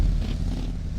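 A car in PUBG on the Sanhok map gives a brief, loud low rumble of its engine as it approaches, with no talk over it.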